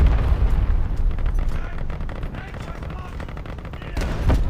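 Tank cannon fire in War Thunder Mobile, heavy booming shots and rumbling battle noise, with a loud blast opening the sequence and another near the end over a constant low roar.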